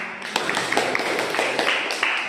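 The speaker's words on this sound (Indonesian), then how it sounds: "tepuk tangan untuk kelompok 2" Students in an Indonesian Islamic education classroom clapping for a student group, a short burst of fairly close clapping from a small group with a few louder individual claps.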